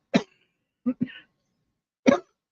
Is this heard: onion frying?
no